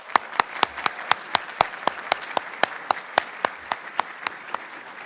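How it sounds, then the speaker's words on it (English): A ceremony audience gives a round of applause, a steady run of crisp, fairly close claps in an even rhythm throughout. "So one more round of applause for them."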